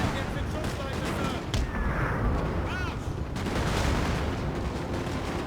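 Musket volleys and artillery fire in the Napoleon: Total War battle game, dense overlapping gunshots and booming cannon in a continuous loud barrage, with game sounds layered throughout.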